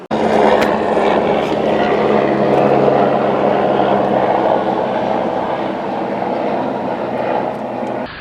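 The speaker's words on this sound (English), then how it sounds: "they do continual flyovers of helicopters, letting me know in advance with this like the noise humming" A helicopter flies over Los Angeles, its loud, steady droning hum filling the air throughout with little change in pitch.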